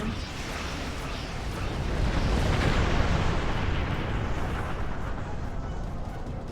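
Dense, continuous barrage of weapon fire and explosions from space combat in Star Trek Online, a loud rumbling wash of blasts that swells in the middle and stays steady throughout, with no voices.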